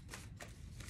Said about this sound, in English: these cards don't want to shuffle